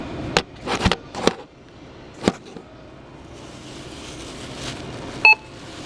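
A grocery store self-checkout scanner gives a sharp electronic beep near the end, preceded by several scattered clicks and thumps of items being handled, with quiet store hum in between.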